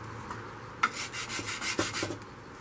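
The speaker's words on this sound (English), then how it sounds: "back onto some 220 grit sanding on this blade" A few short, close rubbing strokes of 220-grit sandpaper on a metal blade, scratchy and uneven, over a quiet background hum.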